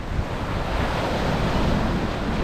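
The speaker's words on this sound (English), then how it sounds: "The sea out there today though is really rough." Rough sea waves wash steadily against the Cardiff foreshore on the Bristol Channel, a dense, continuous roar of surf mixed with wind buffeting the microphone, with no talk.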